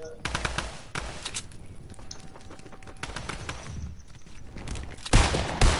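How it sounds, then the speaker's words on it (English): Bursts of automatic gunfire from a PS4 first-person shooter rattle in short clusters with gaps between them, mixed with game ambience and a heavier blast near the end. "I was getting shot in the back."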